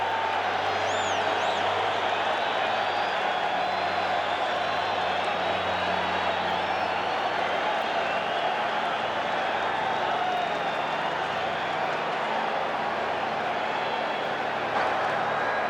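A football stadium crowd roars with sustained cheering and applause during a replay review at an NFL wildcard playoff game, a loud, continuous wash of noise.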